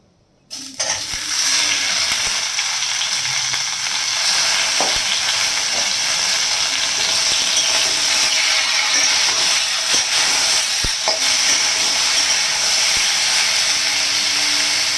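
Tomatoes tipped into hot oil with tempering spices for a jaggery tomato chutney, bursting into a loud, steady sizzle and fry that holds for the whole stretch, with a few light clinks of a utensil and no talking.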